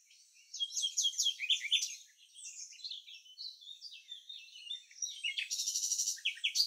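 A common nightingale sings alone with varied high, rapid phrases, trills and chirps, fairly faint against a quiet background.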